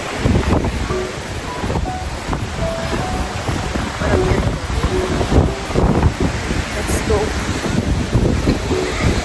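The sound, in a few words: strong ocean waves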